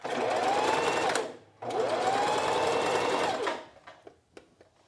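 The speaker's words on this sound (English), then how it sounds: "I am just going to line it up on my machine. And we're going to top stitch." A sewing machine top-stitches the edge of a pair of pants in two rapid whirring runs, each winding up and down in pitch, with a short pause between them and a few faint clicks at the end.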